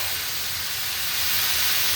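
A fish head, from a xol fish, fries in hot oil with salt, giving a steady, loud, close sizzling hiss that stays constant throughout with no talking.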